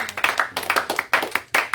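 Worshippers at a French-language church sermon clap for the Lord in quick, rhythmic bursts of many hands, close and lively, with a few short gaps between volleys.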